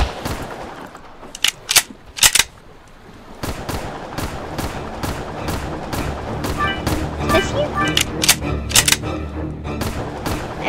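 Gunfire in the Roblox game Shark Bite 2: bursts of rapid shots and a few sharp loud cracks, scattered irregularly over a busy game soundscape, with a player's voice speaking at times.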